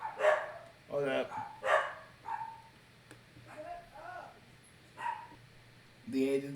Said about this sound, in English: Yep, and the dogs keep barking.